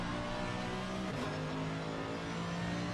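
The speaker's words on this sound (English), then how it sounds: "just the sounds of these cars" Race cars roar through a sim racing video game, a steady high engine drone with a shift in pitch midway, loud and continuous with no talk.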